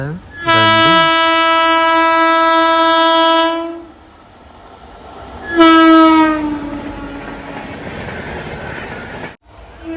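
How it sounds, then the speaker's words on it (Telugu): A crossing train roars past close by a MEMU Express running between Vijayawada and Rajahmundry, its loud horn blaring in two long blasts, followed by rumbling wheels on the track. "ఇదైతే మనకి ఫోర్త్ ట్రైన్ అంటే ఫోర్త్ క్రాసింగ్ అనమాట"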